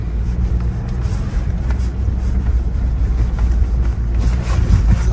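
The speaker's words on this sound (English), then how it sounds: "we're just gonna lock it in second gear, speed on. We're spinning all 4." Ford Bronco First Edition driving through snow in four-wheel drive, locked in second gear with all four wheels spinning; a steady, loud low engine and drivetrain rumble with wind buffeting, continuous throughout with no talk.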